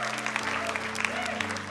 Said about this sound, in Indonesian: Boleh dong tepuk tangan ya